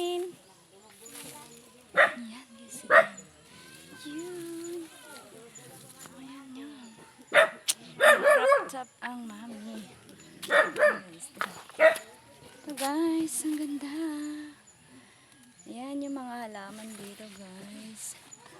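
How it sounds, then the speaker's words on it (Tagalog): A dog barks in short sharp bursts, a few at a time, while people chat nearby throughout. "May aso, Sherwin!"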